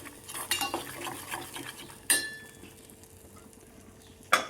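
A spoon scrapes and clinks against a pan as gram flour and masala are stirred and roasted in oil for a Kolhapur-style egg masala, with a few sharp metallic taps among soft, close stirring and faint sizzle.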